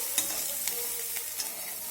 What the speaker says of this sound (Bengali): পেঁয়াজটাকেও একটু নেড়েচেড়ে আমি লাল করে ভেজে নেব।